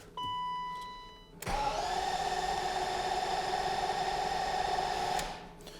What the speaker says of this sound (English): I'm gonna crank it until I see the oil light go off.